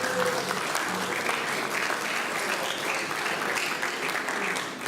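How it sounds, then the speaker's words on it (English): Audience applause for the team behind a community youth event in Epsom, steady and fairly even for about five seconds, a dense wash of clapping that fades slightly at the very end. "let's give them another round of applause"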